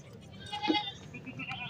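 A goat bleats briefly amid the bustle of a Bhains Colony goat market, one short cry rising over steady background chatter and crowd noise.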